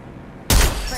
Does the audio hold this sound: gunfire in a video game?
yes